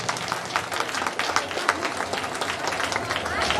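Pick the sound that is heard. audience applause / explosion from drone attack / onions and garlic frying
audience applause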